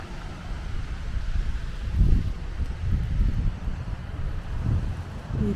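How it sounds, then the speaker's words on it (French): Morning wind gusts beside a lake, a low rumbling rush that swells and eases in waves with faint rustling, close to the microphone and with no voices. "il y a du vent, c'est super agréable"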